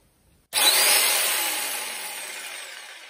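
A DCA AMQ65 electric jigsaw starts abruptly and cuts into wood, a loud, close, continuous buzzing saw whine that slowly fades in intensity, no speech.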